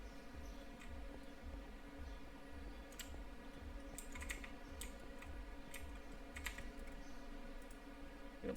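Fast typing on a computer keyboard during Minecraft play: quick, faint bursts of key clicks over a steady low hum, with no voices.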